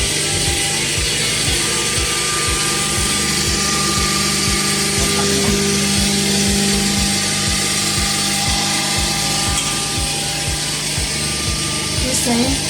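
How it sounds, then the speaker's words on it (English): The oil pump of a REXON vacuum lubricating oil purifier runs with a rapid, even mechanical ticking over a constant motor hum, steady and close for the whole stretch, with no voices. "We start the oil pump"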